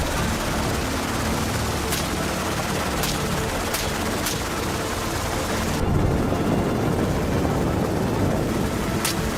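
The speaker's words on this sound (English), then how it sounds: "pilots fly low over steep slopes and brush where feral hogs often hide" A low-flying aircraft over steep Texas mountain slopes and brush during an airborne feral hog hunt, a loud continuous rotor-like roar with a few sharp cracks like gunshots, steady throughout.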